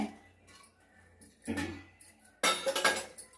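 A spoon mixes mango pickle with oil and asafoetida in a dish, producing soft scraping and a few louder metallic clinks against the dish, alone and close.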